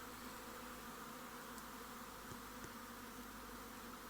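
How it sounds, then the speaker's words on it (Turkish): A honeybee swarm settles onto a spot before being taken into a hive, a faint, even, continuous buzzing drone with no talk. "Evet arılar şöyle bir yere konmaya başladılar"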